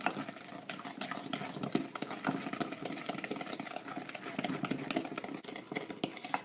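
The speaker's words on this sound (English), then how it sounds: "I'm going to mix all of my wet ingredients together until they're well combined" Wet ingredients for sugar cookie dough being mixed together, heard as a steady whirring drone with rapid clicking and clinking against the bowl throughout, moderately quiet.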